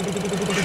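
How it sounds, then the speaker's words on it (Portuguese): A BMW X1 gasoline engine running in a repair setting after a valve cover gasket job, giving a steady close idle hum with a fast even pulsing rhythm. "estamos escutando aí a melodia do motor BMW X1"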